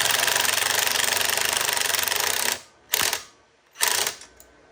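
A ratchet wrench turns a 10 mm bolt on a motorbike, giving a dense, rapid clicking for a couple of seconds, then two short separate bursts of ratcheting. Loud and close, no talk.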